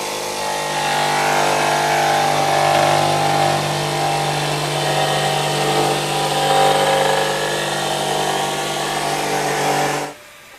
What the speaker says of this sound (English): Let's turn on the blower.